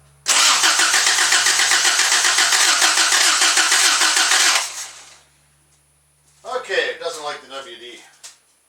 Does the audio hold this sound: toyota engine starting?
yes